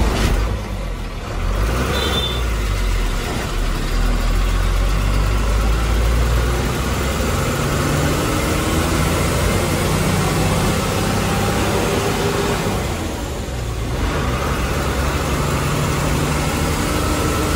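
A car engine hums steadily while driving, with continuous road and engine noise close by, a brief dip near the end, and no talking.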